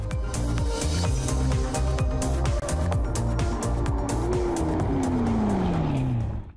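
A McLaren 650S supercar accelerates hard, its engine note climbing through several rising sweeps punctuated by sharp gear-change cracks, loud and close throughout.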